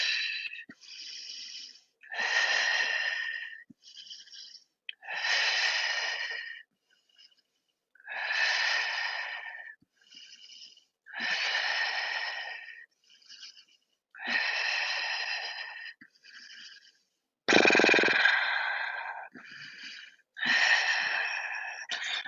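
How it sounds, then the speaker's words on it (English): Long, slow breathing during a yoga flow, close and audible, steady inhales and exhales repeating at an even, unhurried rhythm, with no talking. "Long, slow breaths."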